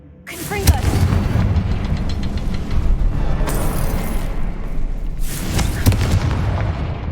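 In the Hogwarts game, a fiery Confringo spell bursts with sharp booming impacts, first near the start and again near the end, over a continuous loud rumble of combat noise.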